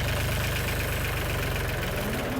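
A Balwan 400 DLX tractor engine pulls steadily in top gear while towing a three-ton Hitachi machine, giving a continuous low, throbbing diesel drone with a fast even pulse, loud and close with no talk over it.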